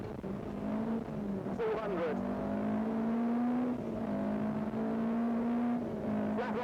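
A rally car races hard along a stage of the 1987 British Midland Ulster Rally, its engine holding a loud sustained drone that rises and shifts with the gear changes, heard from inside the car under a co-driver calling pace notes.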